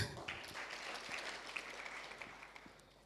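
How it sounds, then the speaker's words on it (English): Audience applauding panel speakers at a book launch, a soft, fairly distant patter of clapping that thins out over about three seconds, with faint murmuring underneath. "Let's clap for them"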